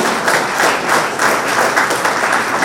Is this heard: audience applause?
yes